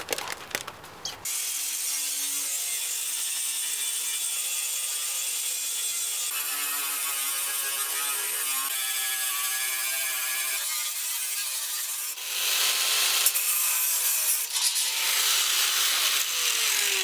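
A saw cuts through skid plate material for a homemade skid plate, a loud steady rasping grind that runs nearly continuously close by, growing harsher and louder toward the end, with no talk.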